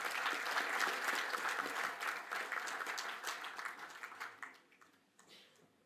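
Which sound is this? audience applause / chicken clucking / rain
audience applause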